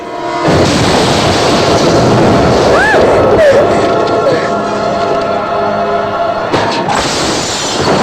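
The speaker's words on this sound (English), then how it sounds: "explosion has been reported" A bomb blast in an action movie scene, a loud, dense roar of debris and rumble sustained for several seconds, with brief voices and sirens-like tones mixed in before a short pause and a renewed burst.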